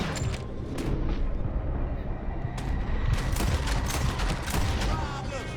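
Gunfire in Red Dead Redemption 2 as a shootout rages: rapid overlapping shots and booming blasts in dense bursts, continuous and fairly loud, with voices faintly mixed in.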